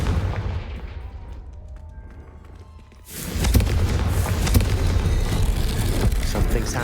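Hogwarts Legacy Confringo fire spell: after a quieter stretch with some talk, a loud, dense burst of fiery explosive roar erupts around three seconds in and stays sustained and crackling to the end.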